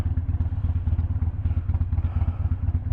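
A motorcycle being ridden, its engine giving a steady, rapid low thumping putter, close and fairly even, with faint clatter and no talking.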